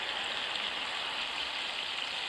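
A rain stick being shaken gives a continuous, even rushing hiss like falling rain, bright and close, with no voices over it.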